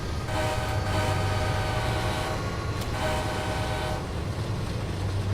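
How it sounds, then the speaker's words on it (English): A train rumbles steadily past, its horn sounding in two long blasts over the continuous roar of the cars. "We're gonna pass that train."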